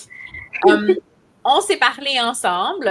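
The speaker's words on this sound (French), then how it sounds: "pourquoi est-ce qu'il y a une grenouille qui chante derrière?" A frog croaks in the background behind someone speaking French, a steady rhythmic croaking that carries on under and between her words.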